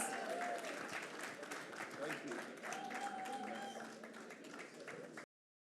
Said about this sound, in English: Could you give him a round of applause, please?